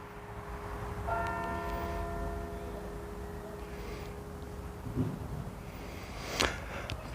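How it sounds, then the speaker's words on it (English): Church bells ring out at five o'clock in Bewdley, a Georgian riverside town. The sustained ringing tones are moderately faint and distant, sitting over outdoor background noise, with a few brief louder bumps later on. "Well, the bells, I guess, means it's 5 o'clock."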